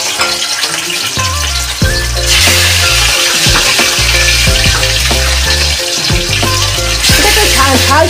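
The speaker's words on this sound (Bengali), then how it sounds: "প্রথমে আমার তেলটা গরম হয়ে গেছে এবার আমি মাছগুলো এক একে ছেড়ে দেব।" Fish dropped one by one into hot oil, loud continuous sizzling and bubbling frying close up, with a surge as more pieces go in and a low voice faintly underneath.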